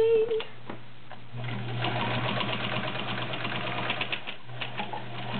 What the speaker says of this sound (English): Levi's pocket, seams and all, using a size 18 needle. Right over the seam